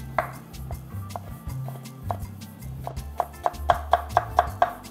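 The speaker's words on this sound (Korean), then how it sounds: "(5cm) 길이 정도로 해서 채쳐 주시면 됩니다" A knife chops cucumber into thin 5 cm strips on a cutting board: a run of crisp taps, sparse at first and then speeding into a steady, close rhythm with no voices.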